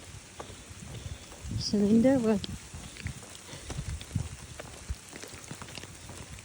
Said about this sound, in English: Oh, it's raining good.